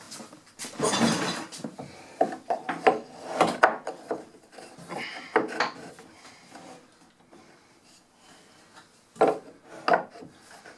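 A wooden barn-style door piece is slid into place in a woodshop. Repeated rasping wood-on-wood rubs and scrapes come close up in irregular bursts, with a few knocks, and no one speaks.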